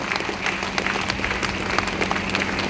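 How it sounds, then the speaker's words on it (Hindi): Audience applause at a Safe Shop direct-selling motivational event in Jamshedpur, a steady, dense wash of many hands clapping throughout, fairly loud and continuous with no speech over it. "एक बार शेफ शॉप के लिए जोरदार ताली होनी चाहिए।"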